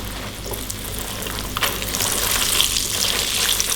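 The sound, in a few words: mini cireng frying in oil until browned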